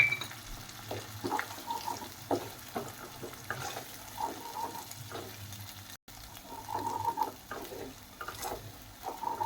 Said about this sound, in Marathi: आता थोडंसं सगळं कांदा वगैरे सगळं लालसर झालं तर आपण तेलामध्येच खोबर टाकून घेऊ.